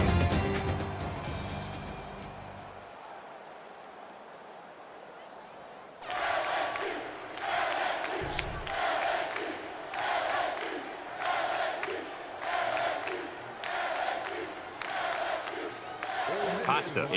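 A large stadium crowd roars and chants in rhythmic waves before kickoff in the NCAA Football 14 video game, its swells rising and falling loudly, with a commentator's voice heard early on.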